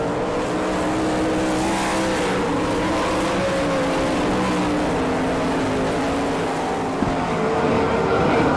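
A pack of 360 sprint cars races on the dirt track at Gibsonton, Florida, a loud, continuous roar of engines with shifting revving tones as cars pass under green flag.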